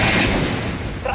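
Gunfire from an Xbox session of the first-person shooter Metro Last Light: a dense, loud burst of shots packed into about a second, with speech overlapping the shooting.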